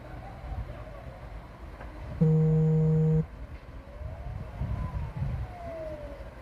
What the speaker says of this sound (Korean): 소방차 소리 들리시죠 지금